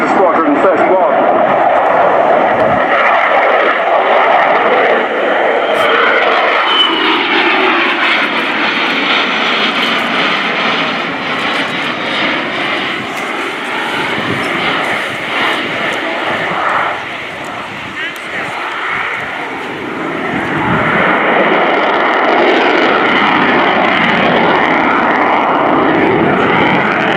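A Finnish Air Force F/A-18C Hornet fighter jet roars through a flying display at an airshow, its loud engine sweeping and shifting in pitch as it manoeuvres, with a brief dip before swelling again, while a commentator talks over it.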